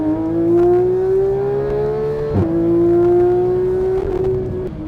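A Porsche 911 GT3 engine pulls hard while driving, its loud, close, rising note climbing steadily, dipping briefly at a gear change, then climbing again.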